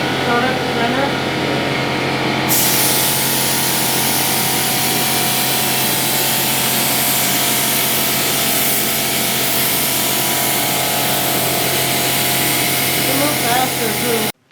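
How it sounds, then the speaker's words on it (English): A continuous loud hiss of a spray gun painting a Nissan S14 240SX runs without a break, with a steady mechanical hum underneath, cutting off abruptly at the end. "Spray it a little bit of whole thing"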